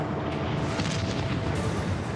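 A volcanic eruption at Pompeii rumbles and explodes as a dense, continuous roar of deep booming and crackling blasts, loud and unbroken throughout, with no voices.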